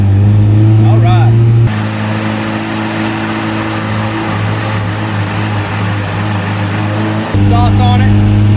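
A Honda Civic engine on a dyno, strapped down for a run, idles with a steady droning hum, drops into a rough lower rumble for several seconds, then returns to the louder idle tone.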